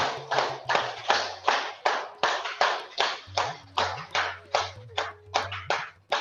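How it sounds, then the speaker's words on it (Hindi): Yoga class participants clap together in unison, roughly fifteen sharp, evenly spaced claps close by, with a faint tonal hum running underneath. "वाह, तालियां।"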